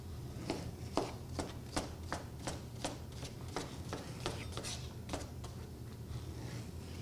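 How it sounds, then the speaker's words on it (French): A knife chops food into strips on a board in a kitchen, a steady run of about a dozen sharp, crisp taps close up over a low background hum. "vous faites couper en languettes, qu'on recoupe dans le sens contraire"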